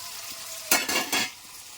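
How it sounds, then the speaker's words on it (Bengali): Potatoes frying in a pan: a soft background sizzle broken by three quick bursts of scraping and stirring, each louder than the fry and close by. "আলু ভাজা"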